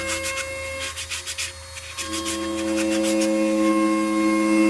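A coconut shell pot being ground and rubbed smooth gives a close, uneven scraping and rasping that surges in short strokes, then steadies into a continuous abrasive whine.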